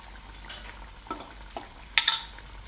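Salt and curry leaves go into a simmering Kerala-style chicken curry with fried-onion masala, giving a low bubbling hiss with a few soft scrapes and one clear metallic clink of a spoon.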